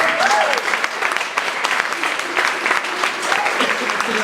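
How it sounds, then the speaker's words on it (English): A crowd at a talk applauds public school teachers with dense, sustained clapping that stays at an even level throughout. "Can we clap for them?"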